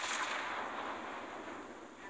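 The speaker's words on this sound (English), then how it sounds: "Double tap the fire button to fire a full salvo from all loaded guns." Ship guns fire a salvo in the naval video game World of Warships Blitz, heard as a loud, sustained burst of booming, rumbling gunfire that slowly fades over about two seconds.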